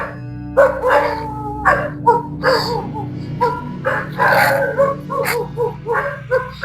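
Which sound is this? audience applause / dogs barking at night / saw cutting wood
dogs barking at night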